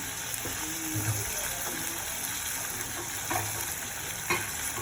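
Tomato mixture frying and being stirred in a pan, a steady low sizzle with occasional soft scraping strokes, moderately close.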